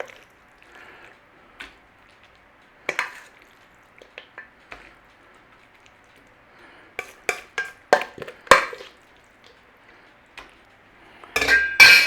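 Oat carrot cake batter is spooned from a bowl into a baking tray, giving sparse soft scrapes and a few sharp clinks of utensil on metal and glass, growing busier toward the end.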